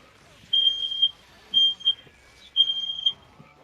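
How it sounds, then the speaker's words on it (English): A fire alarm sounding in a home, with three loud high-pitched electronic beeps in a row and a short pause between each. "I believe my fiance set off the fire alarm."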